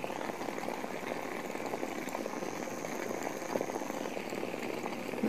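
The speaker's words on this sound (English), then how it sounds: "It's just boiling right on the washer." Water boiling on a flat induction coil powered by a ZVS driver, a steady low bubbling and rumbling hiss with a faint high whine, continuous and fairly quiet with no talk.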